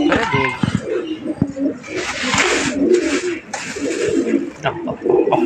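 Saharanpuri pigeons of the Devbandi line coo in low, throaty bursts close by, mixed with wing flutters and rustling, while someone talks over them.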